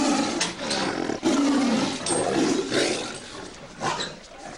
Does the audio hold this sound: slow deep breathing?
no